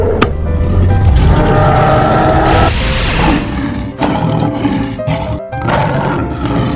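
A lion roars loudly in a 3D animal slide video game, a big rumbling roar over busy game music and effects, followed by further game noise and thuds.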